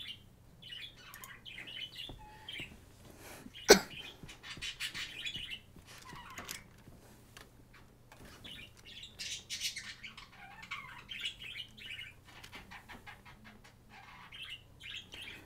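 Birds chirp and squawk intermittently in the background, fairly faint, with one sharp click early on and a low steady hum underneath.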